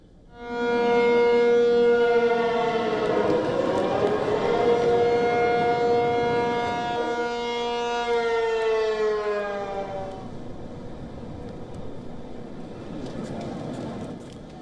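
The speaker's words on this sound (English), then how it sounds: "the deafening air raid sirens that wailed across the city of Taipei" A loud air raid siren wails continuously across Taipei during a civil defence drill, its tone sliding down and fading over several seconds, echoing across open city streets.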